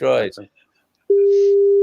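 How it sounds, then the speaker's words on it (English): A phone call placed to someone on a train goes unanswered, a steady electronic line tone sounding loud and unbroken after a brief voice and a moment of silence. "6 guys ringing another guy on a train who's not picking up."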